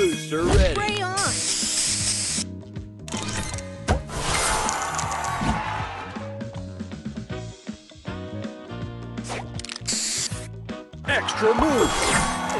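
Spray booster effect in the Color Crystals video game: repeated loud hissing spray bursts mixed with game music, chimes and crashes, with a game voice announcing between them.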